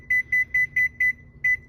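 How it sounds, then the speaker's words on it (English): Kitchen timer beeping during baking, a rapid run of six sharp electronic double beeps in a quick even rhythm, close and clear with a short pause before the last. "Okay, so I'm gonna set a timer."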